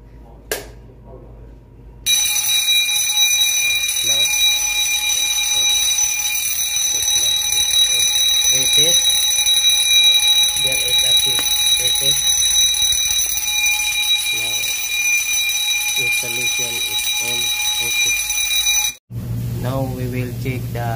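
A fire alarm bell rings continuously and loudly after a break-glass call point is pressed on a ZETA conventional fire alarm system, with brief speech under it before it cuts off near the end.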